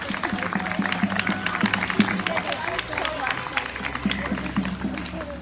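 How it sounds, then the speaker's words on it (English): Applause at an outdoor protest for Tyree Gorman, moderate and uneven claps mixed with crowd babble and voices talking throughout. "Can everybody please give him a round of applause."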